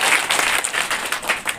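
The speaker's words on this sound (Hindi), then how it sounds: "राम जी के लिए एक बार ताली बजाइए" An audience at a BJP election meeting in Ghurel, Biawara, bursts into applause, dense clapping from many hands, loud and close, briefly and steadily throughout.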